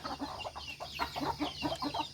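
Native farm chickens cluck in a steady, repeated rhythm close by, with short overlapping calls from several birds and no talking.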